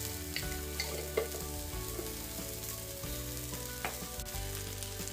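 Cumin seeds go into a pan of roasting tomato and spices, producing a constant soft sizzle with light stirring scrapes over an even, moderate background.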